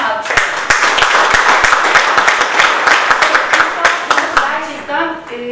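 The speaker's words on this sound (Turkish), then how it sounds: "Bütün doktorlara sağlık personeline alkışlar." An audience at a hospital talk on patient satisfaction and communication claps for doctors and health staff, with sharp individual hand claps standing out over talking, the clapping fairly close and uneven.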